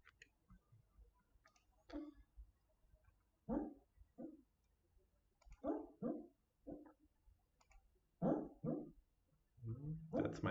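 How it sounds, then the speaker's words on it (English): A sleeping, dreaming dog gives soft muffled barks and whimpers in the background, a series of short quiet yips spaced irregularly through the quiet room. "That's my dog in the background."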